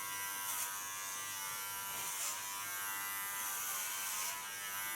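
Electric hair clippers cutting hair down to 3.5 millimeters, a close, continuous high-pitched buzz whose tone rises and falls slightly as they pass over the head, with no talk.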